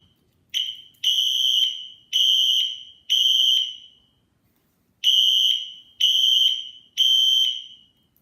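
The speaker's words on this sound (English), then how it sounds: "So I'm going to go ahead and set off the Wheelock Exceder." A Wheelock Exceder fire alarm sounds loudly in a garage, giving seven piercing tone bursts in a temporal pattern: groups of three sharp beeps split by a pause, with no voices.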